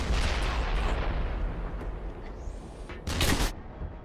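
A tank cannon in a video game fires with a heavy, booming blast that decays into a long rumbling tail, then a sharp second burst of crackling impact follows near the end, with no talk.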